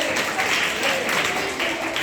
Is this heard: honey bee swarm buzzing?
no